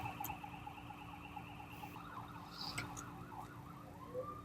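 A wailing emergency siren rises and falls in repeated warbling sweeps as it passes, fairly distant and faint over a steady low hum of background noise.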